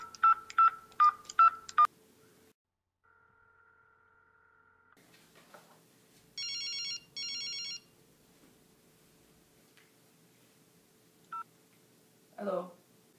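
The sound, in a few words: telephone dialing and ringing to call family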